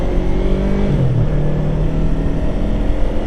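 A motorcycle engine held at a steady low rumble with a little throttle while downshifting to slow speed in traffic, close and continuous, with a brief pitch dip partway through.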